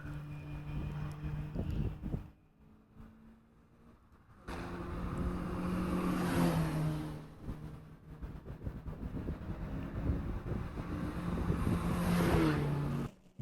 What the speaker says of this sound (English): Back on board with the Zoom Kaboom team and their Miata